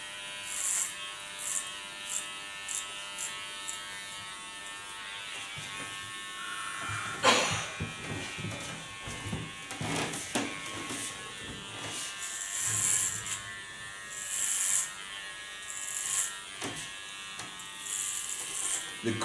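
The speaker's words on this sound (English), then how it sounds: "I go in from above into the opposite lines and turn my clipper in that line" An electric hair clipper buzzes steadily while cutting hair against the grain around the crown, with short passes and pauses, and a person talks intermittently over the close, continuous hum.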